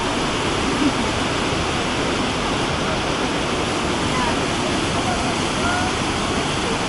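The river through Johnston Canyon rushes in a steady, dense roar of churning water, loud and close like a waterfall, unbroken for the whole stretch with no other sounds standing out.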